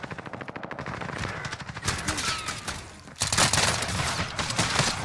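Rapid gunfire from a pistol in an online shooter video game, with dense, quick cracks in continuous bursts that swell louder after a brief lull, heard without talk.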